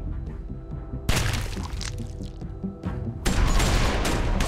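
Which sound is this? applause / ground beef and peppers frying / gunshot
gunshot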